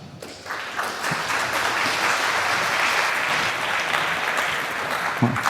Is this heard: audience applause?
yes